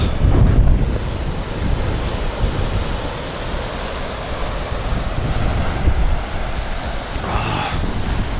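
Sea surf rolls in steadily with gusting wind on a cold January coast at Saint Ives, Cornwall, a broad continuous roar of breaking waves and buffeting wind noise filling the whole stretch with no voices.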